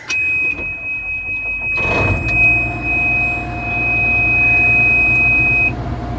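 A combine harvester fitted with an SKh-6 sunflower header starts up, its engine cranking and catching into a steady, loud idle rumble, with a continuous high electronic beep over it.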